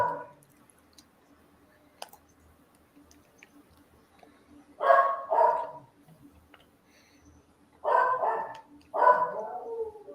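Small dog barking indoors in two short clusters of yaps and barks, fairly close and loud, with quiet gaps between and no talk over them.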